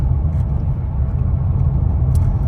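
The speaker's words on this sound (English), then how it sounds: "Right now I'm just off throttle and just letting the truck idle along" A pickup truck engine idles off throttle after a transmission fluid change. It gives a loud, steady low rumble that carries on without a break, and no voices are heard.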